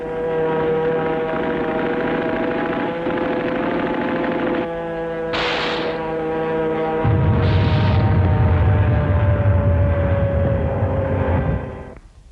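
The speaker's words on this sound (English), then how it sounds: "Carrier planes of Admiral Spruance's Fifth Fleet hit the home islands of Japan and then softened up the target island of Okinawa" A steady, droning propeller aircraft engine hum of US Navy Fifth Fleet carrier planes, loud and continuous, with a shift to deeper roaring partway through and a fade at the end.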